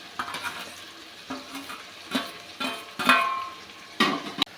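Chopped tomatoes sizzling in a hot pan while a spoon scrapes and stirs in repeated strokes, close up, with no talking.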